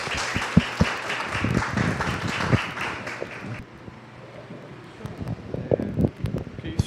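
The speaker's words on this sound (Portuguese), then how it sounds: "Palmas para o professor" Audience applause at an academic talk in Brazil, a dense patter of clapping for about three and a half seconds that fades into quieter room noise with scattered sounds.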